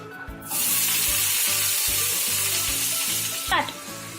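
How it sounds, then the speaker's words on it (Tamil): Chopped onions drop into hot oil with popped mustard seeds and a loud, steady sizzle erupts, continuing evenly with occasional stirring taps, close up and without talking. "இப்ப கடுகு பொரிந்த பிறகு நறுக்கி வைத்த வெங்காயத்தை இதில் சேர்க்கலாம்."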